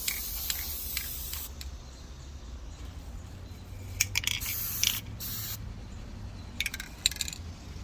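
Can of silver metallic spray paint misting a coat over a refurbished jewelry box, faint soft hiss with several short sharp spurts and light clicks of the nozzle, no talking.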